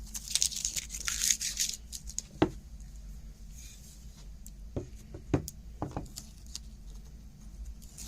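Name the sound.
peeling masking tape off a wood gun stock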